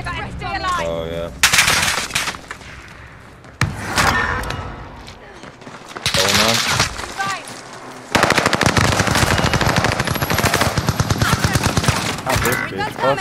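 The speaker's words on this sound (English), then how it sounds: "The bastard is shooting at me!" Rapid automatic gunfire from the video game Warzone, with bursts of machine-gun fire and single shots that grow into a dense, loud, sustained volley near the end, while players talk over it.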